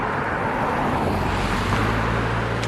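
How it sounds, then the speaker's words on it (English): A car passes on a road near Tennessee Valley in the San Francisco Bay Area, a steady loud rumble of tires and engine mixed with wind buffeting the microphone, with no talking. "The car's, oh, another car's coming."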